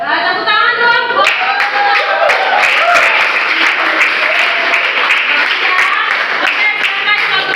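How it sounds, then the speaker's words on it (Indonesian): A classroom of students applauds after a group presentation: dense, continuous clapping from many hands, close and steady, with voices talking and calling out over it. "Tepuk tangan dong."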